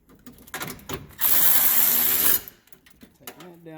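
Ratcheting wrench tightening a bolt on the tensioner pulley of a 2004 Toyota Tundra, close by: a quick burst of clicking, then a sustained loud mechanical whir for about a second, with softer clicks before and after.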